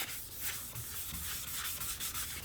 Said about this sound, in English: you apply some onto this applicator right here and just rub it onto your vehicle